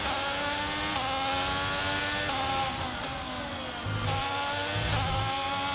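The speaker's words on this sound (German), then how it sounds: "ich höre meinen Motor schon heulen" A Formula 1 car engine howls in the F1 22 racing game, a loud, steady high-pitched whine with rising and falling harmonics as the revs shift, heard alone without talk.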